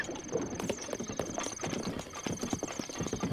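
Horse hooves clip-clop steadily in a Zelda game, with a brief whinny, over a constant high ambient tone and game background.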